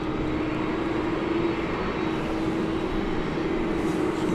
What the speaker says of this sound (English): a Qatar Cargo 777 coming in from Atlanta